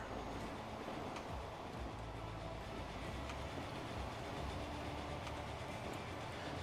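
A train hauls a load of logs across a mountain map in Transport Fever, heard as a faint, steady rolling rumble with soft rail clatter throughout.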